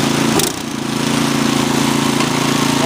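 Troy-Bilt 2620 snow blower with its small gas engine and auger running at full throttle: a loud, steady buzzing drone with a brief dip near the start, close by and continuous, no talking.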